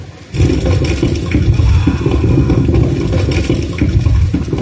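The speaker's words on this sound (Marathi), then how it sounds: "ओसांडून वाहणारा धबधबा आणि त्याखाली पावसाचा आनंद घेणारे पर्यटक" Overflowing monsoon waterfall pouring in a steady, loud roaring rush of water that fills the whole stretch without a break, close and dense, with no voices heard over it.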